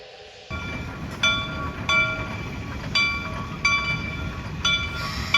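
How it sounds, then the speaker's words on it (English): A steam locomotive, engine number 11 of the Cass Scenic Railroad, rumbles steadily close by, with repeated bright metallic squeals or whistle-like tones recurring every second or so over the heavy noise. "here comes our train, led by the main locomotive for today"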